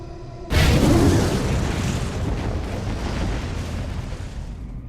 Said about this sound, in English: followed by an explosion which will open the way to Nokron City